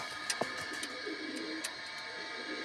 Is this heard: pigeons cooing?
yes